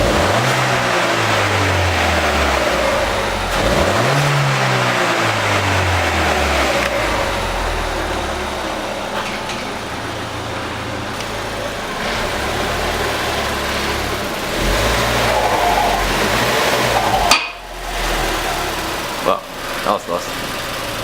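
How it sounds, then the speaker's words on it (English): A 2016 Ford Fiesta ST engine with a Boomba blow-off valve adapter idles and is revved in a few swells, with sharp bursts near the end, while a person talks over it. "Rev it a little so you can hear the blow-off valve."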